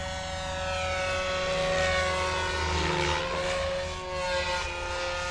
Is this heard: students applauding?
no